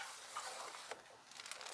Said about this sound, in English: I'm taking it out for its first stir